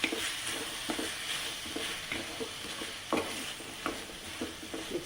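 Chopped tomatoes and ginger garlic paste are stirred in a hot pan for a spicy crab masala. A steady sizzle of frying runs beneath regular scraping strokes of a spoon.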